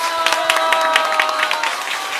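Applause at a lecture gathering in a hall, a crowd clapping in a dense, even wash with tonal music or feedback ringing underneath, steady and loud throughout.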